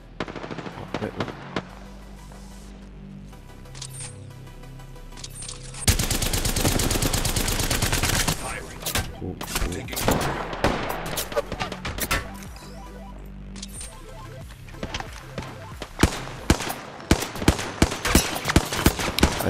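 Gunfire in the Apex Legends video game: a dense, loud stretch of rapid shots midway, then scattered sharp single cracks and bursts over game sounds, with a brief spoken word early on.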